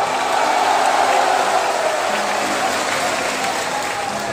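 Crowd applause and cheering at an outdoor political election rally in West Bengal, a loud, dense wash of clapping and crowd noise that holds steady without breaks.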